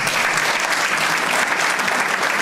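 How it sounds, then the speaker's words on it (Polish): An audience at a regional awards ceremony in Skarszewy applauds loudly and continuously, dense clapping filling the room with no voices over it. "Wielkie brawa!"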